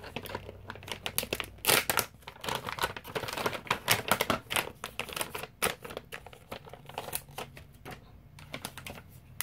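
Plastic wrap is peeled off a GlamLite cosmetic product, a close sequence of sharp crinkles, tears and rustling bursts coming in irregular clusters, with no talking.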